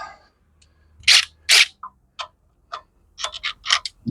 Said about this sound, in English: I'm going to use my impact driver for the axle nuts